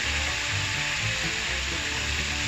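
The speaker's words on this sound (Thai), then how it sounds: "มาดูตอนทอดเลยดีกว่า" Tilapia fries in hot oil, giving a loud, dense, continuous sizzle and crackle heard up close with no talking.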